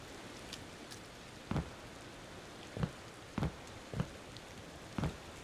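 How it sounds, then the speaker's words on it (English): Ambient rain-like patter from the puzzle video game Maquette, a faint soft hiss broken by several sharp drop-like ticks at irregular intervals. "It gives the impression of rain, even though there's no rain happening."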